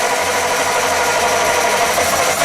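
Armoured vehicle engine cranking and catching, a loud continuous mechanical rattle with a steady throb, close and without any voices.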